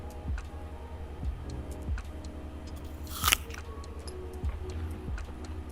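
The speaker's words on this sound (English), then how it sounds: "I say as I just sit here munching on my apple." Crisp bites and chewing on an apple, taken in a few sharp crunches inside the cockpit of a Spirit Airlines A320 in flight, over a constant engine and air hum.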